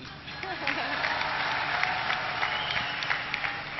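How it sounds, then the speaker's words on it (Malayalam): An audience at the 2011 Inspire film awards ceremony claps together in dense, sustained applause that fills the hall, with a voice briefly audible at the start. "അപ്പൊ ഒരുമിച്ചൊന്ന് കൈയടിക്കുക"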